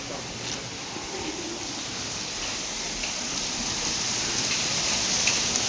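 Heavy rain pours steadily in Panvel, a dense, constant hiss that builds slightly over the stretch, with no talk.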